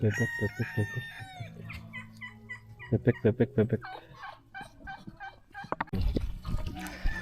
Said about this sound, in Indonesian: Bebek kalkun dari Amerika